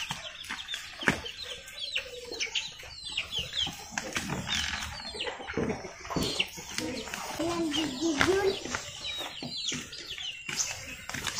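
Several chickens cluck and murmur close by, with scattered rustling and clatter around them.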